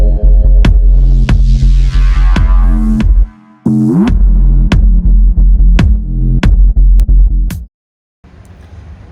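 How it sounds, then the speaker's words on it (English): Behind the dash of a Ford Ranger, the recirculation flap actuator keeps hunting for its home position, making a loud repeating clicking and throbbing hum with sharp ticks at a regular rhythm before cutting out. "what's causing the noise is the actuator for the recirculation flap that's up here, and the actuator can't find its home position"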